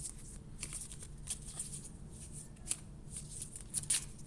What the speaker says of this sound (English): So, shuffle these real quick.